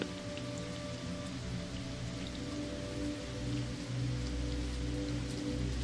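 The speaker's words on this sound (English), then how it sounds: "like the echo of gently falling raindrops that you are hearing with your far off, distant mind" Gently falling raindrops patter steadily in a calm meditation soundscape, a soft, even rain texture layered over low sustained humming tones, with no voices.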